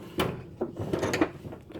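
A toolbox drawer is slid and bumped several times, giving a handful of short wooden-metal knocks and scrapes as it hangs up and refuses to close fully.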